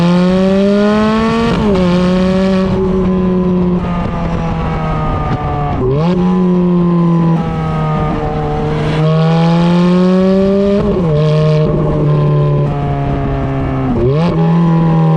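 A Ferrari F430's 4.3-litre V8 engine revs hard and loud, its pitch climbing and dropping again with each quick gear change, over and over.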